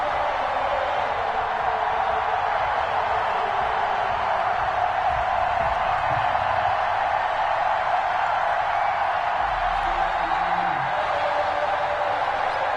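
A video game stadium crowd in Madden 21 roars steadily throughout, a dense, continuous wash of cheering before a Kansas City Chiefs kickoff against the Green Bay Packers.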